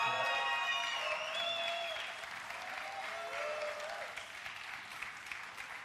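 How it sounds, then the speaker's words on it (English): Sustained crowd applause for the Mexican team at a bartending competition event, dense steady clapping with some cheers and whistles, easing slightly toward the end. "Can we get another round of applause?"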